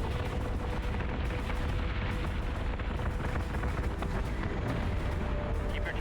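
Ship weapons fire in the space combat game Battlestar Galactica: Deadlock, a dense, continuous roar of heavy gunfire and booming blasts. It holds steady and loud across the whole stretch with no pauses.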